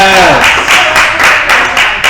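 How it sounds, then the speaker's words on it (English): A live audience at a tavern on Broadway claps in steady rhythmic bursts, loud and close, with a voice briefly heard at the start. "Live claps, ladies and gentlemen."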